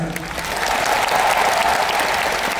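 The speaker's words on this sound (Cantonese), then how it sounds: "希望大家都再次俾最大嘅掌聲" A live-concert audience claps for the dancers, a dense, steady wash of applause from a large crowd that holds at full strength throughout.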